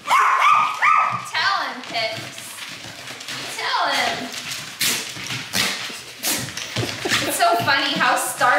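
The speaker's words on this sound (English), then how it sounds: "That was two good barks" Dog barking indoors, a couple of sharp barks and yips mixed with whimpering, heard close amid excited people talking and laughing over it.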